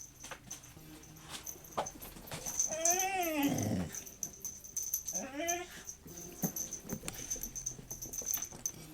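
A dog whines in high, wavering, rising-and-falling cries, two clear bursts in the middle over a quiet room background, with faint sounds around them.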